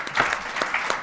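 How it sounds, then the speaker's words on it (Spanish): An audience at a poetry reading in Spain claps steadily, a short dense burst of hand claps without any voices. "pues le vamos a dar un aplauso para romper el"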